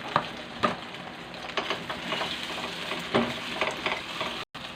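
An egg fries in a hot pan for a mushroom stir fry, giving a steady close sizzle broken by a few sharp crackles and light stirring scrapes.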